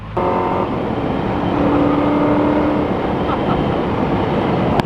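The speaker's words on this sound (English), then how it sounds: "I cannot thank Mike enough for letting me drive this car" A Koenigsegg sports car drives with a loud, steady engine roar that rises slightly and holds, with a droning tone running through the middle of the clip.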